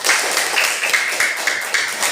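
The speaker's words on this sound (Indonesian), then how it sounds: "Tepuk tangan." A classroom of students gives a short round of applause, a dense spread of hand claps at a steady level, with no talking over it.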